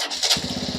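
TVS Star City Plus BS6 motorcycle with a starting problem, its engine catching after a short crank and settling into a quick, even putter, close and brief, with no speech.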